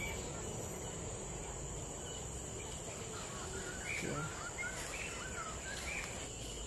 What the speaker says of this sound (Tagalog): May maingay na ibon doon.